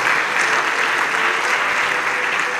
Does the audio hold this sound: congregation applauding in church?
yes